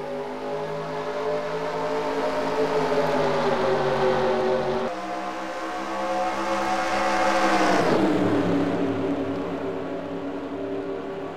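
Simulated NASCAR stock cars roar around Daytona in a racing video game, a loud sustained engine drone with rising and falling pitch as the pack accelerates, no voices over it.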